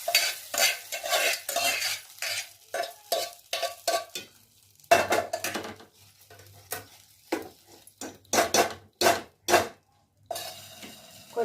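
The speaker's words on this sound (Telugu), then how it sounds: "పచ్చట్లోకి తాలింపు వేస్తున్నానండి" Seed tempering is stirred into a chutney with a spoon, giving a series of quick, close scraping and clinking strokes in irregular bursts, with a faint sizzle between them.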